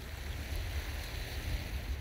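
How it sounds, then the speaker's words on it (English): Strong wind buffets the microphone outdoors by the shore at Two Harbors on Catalina Island, a steady low roaring rumble with surf wash blended in, continuous and close throughout. "it's really windy"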